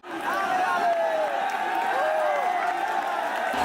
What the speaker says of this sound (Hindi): बहुत भीड़ है